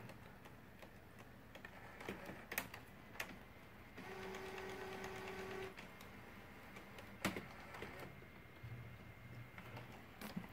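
A home printer runs a print job of a Powerpuff Girls activity page, faint whirring and a steady mechanical buzz with scattered clicks and ticks, quiet and close, no talking.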